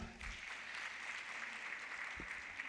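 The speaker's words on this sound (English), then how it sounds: "A big round of applause once more" A congress audience gives a round of applause after a talk, a steady, fairly distant wash of clapping with no voices over it.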